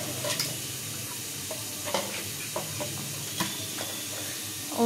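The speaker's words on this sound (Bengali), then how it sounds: "এবার হচ্ছে খুন্তি দিয়ে রান্না করছে।" A spatula scrapes and stirs potatoes, sweet potatoes and garlic in a pan at home, with a steady low sizzle underneath and scattered scraping clicks, louder strokes around the middle and a clatter at the end.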